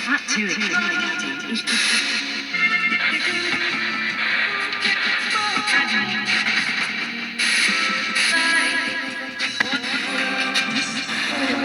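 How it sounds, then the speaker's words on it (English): Radio static from a Nanoportal Mk III Bluetooth ghost box sweeping rapidly between stations, choppy fragments of voices and tones blurring together, with a washed, reverberant tail from added reverb throughout. "So on the box we can also add reverb."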